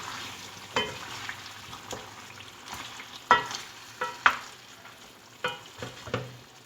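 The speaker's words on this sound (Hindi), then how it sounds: "ये देखिए हमारा कौरमा अभी भून रहा है।" Korma masala with tomatoes fries in a pan, a quiet sizzle broken by scattered stirring scrapes and clinks at an irregular pace, with no talk.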